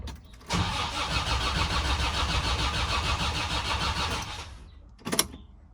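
A Land Rover Defender TD5 engine cranks for about four seconds with a steady, close starter churn that never catches and fires, then falls quiet before a short clunk at the end.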